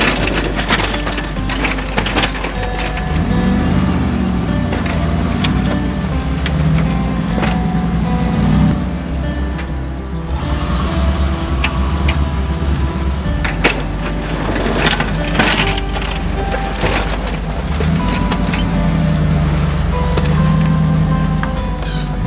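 A plow truck with a rear blade pushes snow off to the side, its engine a steady, loud, continuous drone with a constant low rumble throughout and no pauses.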